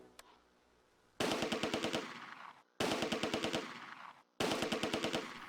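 Machine gun fire in the WWII strategy game Close Combat: A Bridge Too Far, three loud sustained bursts of rapid rhythmic shots separated by short pauses, with no voices.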